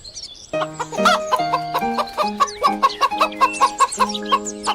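Rhythmic hen clucks, short and repeated, sound over a simple sustained melody.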